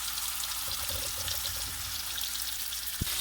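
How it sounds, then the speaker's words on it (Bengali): Fish frying in hot oil in a pan, a steady, dense sizzle and crackle holding throughout, close and moderately quiet, with a faint clink near the end. "গরম তেলের মধ্যে মাছগুলো ভেজে নেব।"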